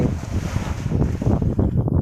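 Sea waves washing in at the shore, a continuous low rushing surge with wind buffeting the microphone, heard alone with no voices.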